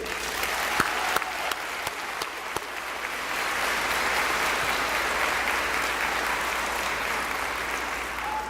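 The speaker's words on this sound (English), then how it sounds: "let's clap for these great students right here" An audience at an elementary school Blue Ribbon ceremony applauds the students, a few sharp individual claps at first merging into loud, sustained and even applause that fills the room.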